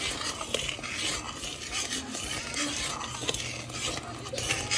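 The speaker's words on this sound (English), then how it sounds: "It's not a constant stir at the point, but you have to stir it." A utensil stirs homemade caramel sauce in a pan, with soft repeated scraping and clinking over a faint cooking hiss, close and fairly quiet.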